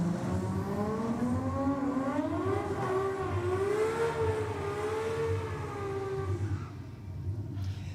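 A drag race car running radial tyres on the rear launches hard, its engine note climbing in a loud, close, sustained whine that bends upward over several seconds before dropping away near the end.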